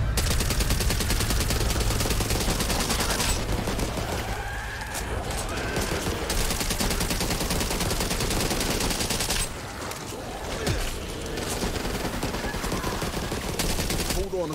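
Back 4 Blood video game gunfire rattles in dense, continuous loud bursts, with machine-gun fire and shots overlapping almost without pause, under brief breaks.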